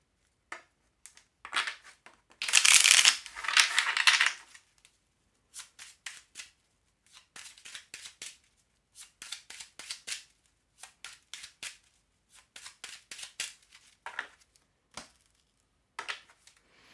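Oracle cards being shuffled by hand in a long sequence of crisp riffling bursts, one dense loud flurry early on followed by many short rapid snaps and flicks, close and clear with no talking.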